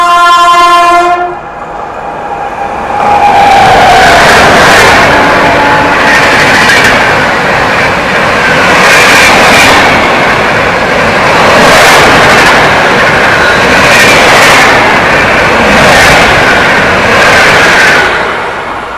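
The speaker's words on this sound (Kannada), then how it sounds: "ಇದು ಪುಣೆಯಿಂದ ಕನ್ಯಾಕುಮಾರಿಗೆ ಹೋಗ್ತಿರುವ ಟ್ರೈನ್ ಜೊತೆ ಕ್ರಾಸಿಂಗು, ಹೆವಿ ಸ್ಪೀಡಲ್ಲಿ ಕ್ರಾಸಿಂಗ್ ಆಯಿತು." A loud horn blast opens as a Pune-to-Kanyakumari passenger train crosses at high speed at Nalwar railway station, heard from a 3A coach of the Udyan Express, followed by a sustained roar and rhythmic clatter of passing wagons.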